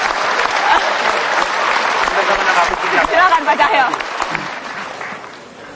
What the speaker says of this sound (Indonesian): Kasih tepuk tangan dong, sangat sweet.